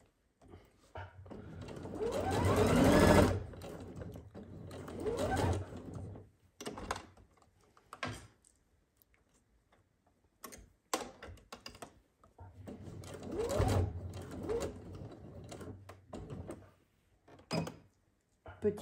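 A sewing machine stitches a seam on a KEROSENE jacket in bursts of fast mechanical whirring, stopping and starting with pauses between runs, while someone talks over parts of it.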